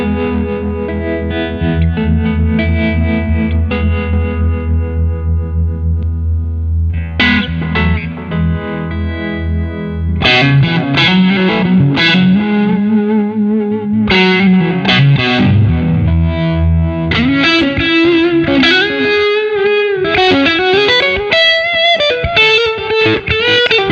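Electric guitar played through a Jam Pedals Harmonious Monk and Oracle delay into a Boss Katana 50EX Gen 3 amp, sustained chords giving way to picked phrases with repeating echoes trailing each note, loud and alone.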